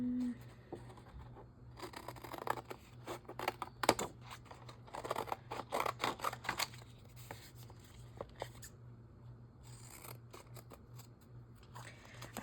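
Scissors snip paper for a junk journal in a burst of quick, crisp close-up cuts, then a pause and a few more scattered snips, all faint against a low steady hum.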